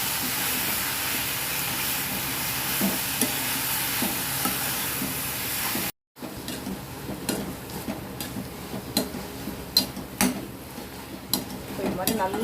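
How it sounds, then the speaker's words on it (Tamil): Coriander leaves stirred and sautéed in a pan for a tomato and coriander chutney, a steady sizzling, frying hiss with occasional scraping stirs, broken by a brief gap midway, no talk. "என் கையால் கரெக்டாக ஒரு புடி அளவுக்கு போட்டு இதையும் நல்லா இதோட வதக்கி விட்டுருங்க"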